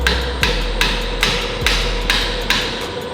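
Hammer giving a series of sharp, evenly spaced taps as a control arm ball joint is seated on a Subaru BRZ in a garage; about seven close, loud metallic strikes with no speech.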